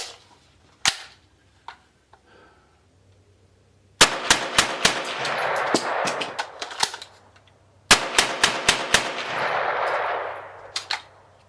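A Kriss Vector SBR .22LR rifle fires close and loud in two rapid strings of sharp cracks, separated by a short quieter pause for a pistol-style magazine change, with a couple of isolated shots before.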